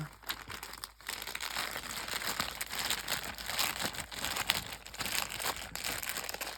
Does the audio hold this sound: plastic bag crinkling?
yes